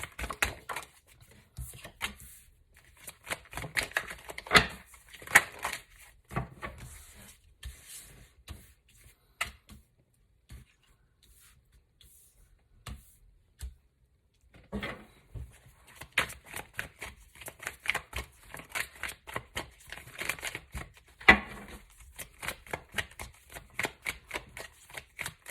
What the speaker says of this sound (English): So I'm just going to shuffle for you guys